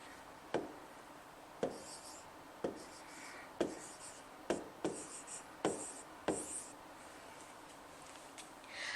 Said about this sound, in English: So let me go ahead and write that down.